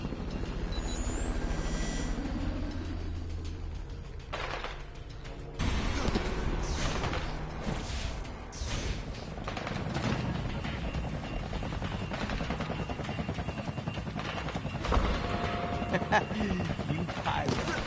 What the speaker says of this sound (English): We'll get the choppers out.